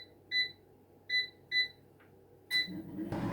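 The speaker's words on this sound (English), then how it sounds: "I'm going to set that on 200 on the air fryer for 8 minutes." Air fryer control panel being set for a naan bread pizza, four short bright electronic beeps in an uneven rhythm, close and clear, followed by a burst of rustling noise at the end.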